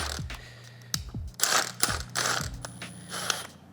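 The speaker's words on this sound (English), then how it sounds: "Now we're just gonna snug this up a little bit with the impact." An impact wrench snugs a spring compressor on a Mazda NA Miata MX-5 strut and spring, firing several short, loud rattling bursts with brief pauses between them, close up and without talk.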